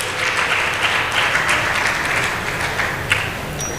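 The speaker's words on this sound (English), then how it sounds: "Please, a round of applause for them, please." An audience at the Nigeria International Maritime Summit gives a round of applause, a loud, even stretch of many hands clapping that continues steadily throughout.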